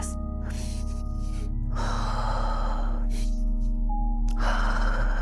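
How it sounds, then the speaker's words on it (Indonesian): Heavy, audible breathing from someone just behind a person serves as a horror story effect. Breathy gasps come in several bursts over a constant low, droning hum. "Tiba-tiba si Rio itu mendengar suara nafas yang tepat ada kayak di belakangnya."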